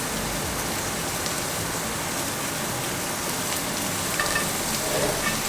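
Butter sizzles and crackles steadily in a hot pan beside a rib-eye steak seasoned with oregano, a dense continuous frying hiss with no talking.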